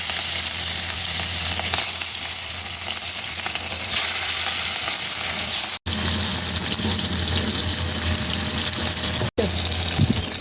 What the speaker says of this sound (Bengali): মাছটাকে আমি হালকা করে ভেজে নেব। আমি কড়াতে সর্ষের তেল দিয়ে দেবো,